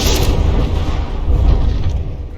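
Battleship main guns in the game From the Depths land heavy hits during a tournament brawl, booming and rumbling low and loud across the whole stretch, with a sharper burst at the start.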